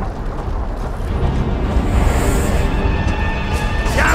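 A Brumak opens fire on a building in Gears of War 2, a loud, continuous rumbling roar of heavy blasts and explosions that swells and holds steady throughout, with no talking.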